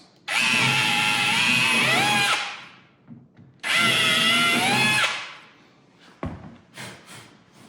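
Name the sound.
power drill drilling through wood drawer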